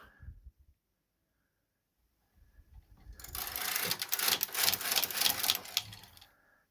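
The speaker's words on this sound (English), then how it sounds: "So now you're going to knit 2 more rows." A domestic knitting machine knitting rows with boucle yarn: after a near-silent pause, the carriage sweeps across in a close, rapid clattering rattle lasting a few seconds, then stops.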